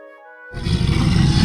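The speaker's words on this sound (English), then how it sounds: "Just then, Tan heard a lone howl." A beast's lone howl in the video game Fantasian Neo Dimension, a loud rough roar that bursts in after a soft musical tone and holds steady to the end, with no voices.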